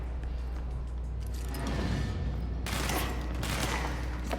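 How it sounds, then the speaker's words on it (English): Gunfire in the video game Control comes as dense rattling fusillades over a low rumble, with a louder burst of shots near the end. "I hear gunfire."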